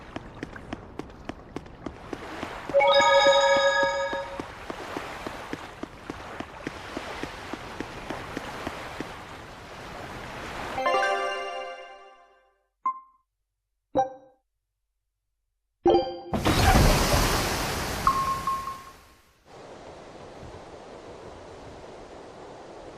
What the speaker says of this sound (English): All right, we're safely on the rolling waves.